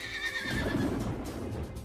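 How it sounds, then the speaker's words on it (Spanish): A frightened horse neighs in a storm, a loud, shaky whinny over a steady rumbling background with no one talking. "Asustado, el caballo escapó del establo y se dirigió a un campo cercano."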